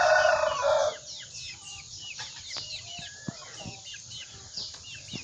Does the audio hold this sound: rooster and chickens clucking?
yes